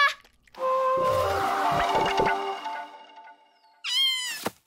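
Cartoon cat letting out a long, loud, wavering meow, followed by a short, sharp, rising yowl near the end, with no talking.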